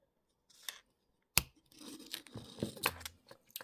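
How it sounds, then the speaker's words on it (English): Wire cutters snipping jewellery wire for a bracelet chain link: one sharp, close snip stands out, surrounded by faint handling noise and small clicks, with no talking. "We're going to cut the wire."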